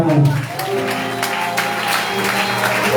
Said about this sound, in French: Applaudissez Saint-Esprit.